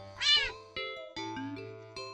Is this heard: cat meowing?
yes